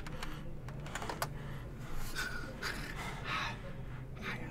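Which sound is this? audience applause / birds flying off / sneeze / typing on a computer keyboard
typing on a computer keyboard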